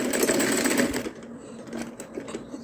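A sewing machine stitches a fabric chapati cloth for holding rotis, running in a fast, steady whirring chatter that eases into softer, intermittent stitching.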